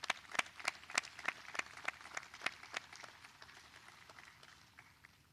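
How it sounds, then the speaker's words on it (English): Scattered hands clap at a 2020 high school graduation ceremony at Freehold High School, a thin, faint round of separate claps spaced apart in a steady rhythm that gradually tapers off. "a round of applause for these folks"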